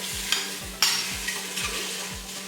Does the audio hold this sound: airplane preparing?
no